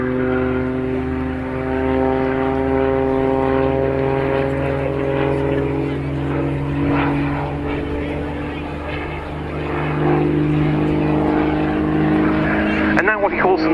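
Aerobatic aircraft at the RAF Cosford Airshow 2023 performing an inverted flat turn, its propeller engine droning loudly and steadily with shifting pitch throughout.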